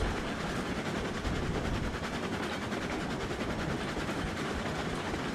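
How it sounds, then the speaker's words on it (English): Steam locomotive in the railway game Railroads Online gathering speed, a steady dense rumble with rhythmic wheel clatter running continuously throughout, loud and close with no talk. "Just gonna let the locomotive accelerate."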